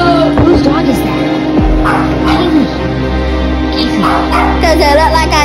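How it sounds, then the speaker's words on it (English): A dog barks and whimpers repeatedly near the microphone while people talk loudly over it, the yips and bow-wow barks coming in short irregular bursts. "Whose dog is that?"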